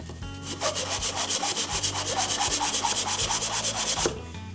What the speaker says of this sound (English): So the grain is going this way, so I'm going to sand that way.